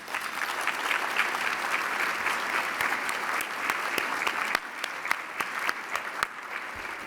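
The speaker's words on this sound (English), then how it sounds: "Let's give them all a round of applause." At a hospice fundraising event, an audience gives sustained applause, many hands clapping in a dense, even roar that thins toward the end into scattered individual claps.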